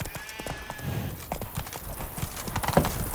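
A horse galloping in The Witcher 3: Wild Hunt on PS5, fast rhythmic hoofbeats pounding close by throughout, mixed with faint in-game ambience.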